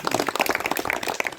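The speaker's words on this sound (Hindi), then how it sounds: "नहीं एक बार जोरदार तालियां हो दो।" Audience applause at a gathering, a short burst of brisk, close clapping from a modest group of hands, fast and uneven, with no speech over it.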